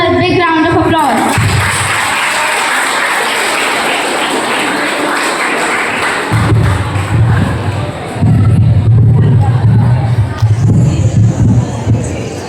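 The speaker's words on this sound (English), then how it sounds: "give him a big round of applause" A loud school crowd at a class 10 farewell erupts with cheers and clapping for the school captain, a roaring, saturated burst that fades as a voice begins speaking over the room.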